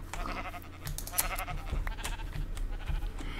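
Sheep bleating in the video game Minecraft, several short wavering bleats in quick succession, close and moderately loud over a soft background.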